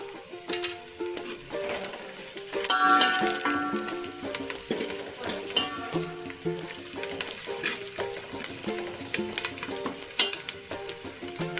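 Masala sizzles in hot oil for tempering Maharashtrian dal (varan), a steady crackling fry with occasional stirring clinks and utensil sounds, close and moderately loud, with no talking.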